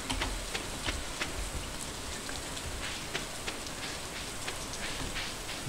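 Steady rain falls in Stardew Valley, a soft continuous hiss of drops with scattered light ticks, evenly loud throughout with no voices.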